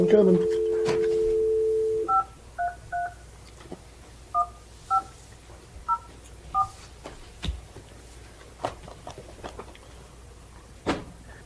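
A desk telephone in a planning and zoning meeting room gives a steady dial tone, then a series of keypad dialing tones sounds in short evenly spaced beeps, close and clear, with scattered thumps and brief voices around.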